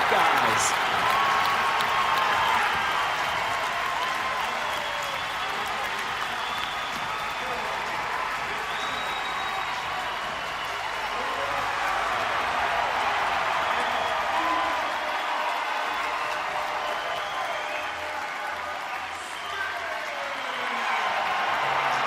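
Crowd at a college wrestling match between Virginia Tech and Ohio State applauding and cheering in a loud, sustained roar that swells and dips, with a commentator talking over it.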